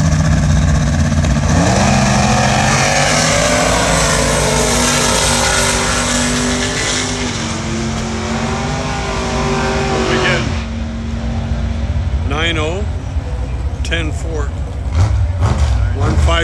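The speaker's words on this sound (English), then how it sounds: "I can see the car on the outside. Is the truck on the inside?" A car and a truck drag race side by side at a drag strip, their engines roaring loudly and steadily for about ten seconds before fading, with people talking nearby afterward.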